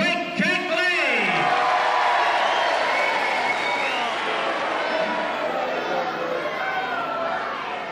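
A wrestling crowd at Walthamstow cheers, loud and sustained, as the wrestlers are introduced. The roar of the packed hall fills the whole stretch, with a voice rising briefly at the start.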